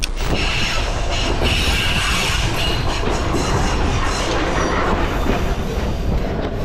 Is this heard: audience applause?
no